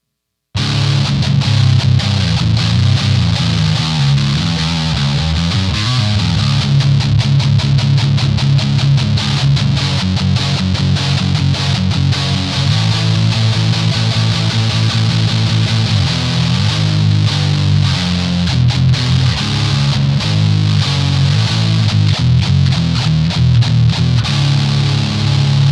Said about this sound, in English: now we're gonna check the neck pickup with distortion.